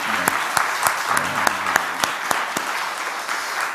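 A church congregation claps together, with individual sharp claps standing out over a steady patter of hands. The applause is close and fairly loud, and a voice or two can be heard faintly under it.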